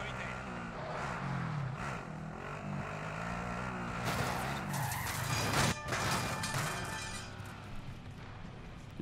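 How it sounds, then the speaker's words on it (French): Cars driving and skidding in the Call of Duty Warzone video game, with continuous engine noise and tire squeals rising around the middle, while someone talks over it. "Il y a tellement de voitures ici."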